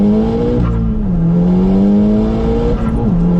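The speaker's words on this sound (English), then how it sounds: "A lot of wheel spin." A 2008 Seat Leon Cupra K1 with Stage 2 tuning accelerates hard with wheel spin, its engine droning loudly and rising in pitch through the gears, heard from inside the car.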